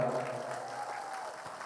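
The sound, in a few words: audience applause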